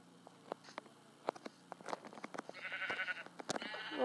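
Several short Minecraft sheep bleats scattered among soft clicks and footstep-like taps, with a rising cluster of game sounds toward the end.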